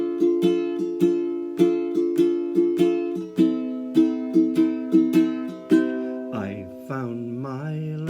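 A ukulele strummed in C in a down-up rhythm, playing the chords of a song; bright, close strums repeat steadily for several seconds, then the playing pauses and a voice briefly sings over a sustained chord.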